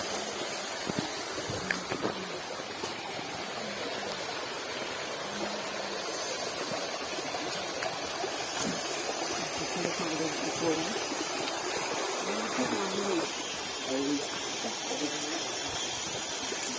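Water rushing over rocks at a waterfall and stream deep in dense forest, a steady broad hiss running continuously throughout, with a voice faintly audible now and then beneath it.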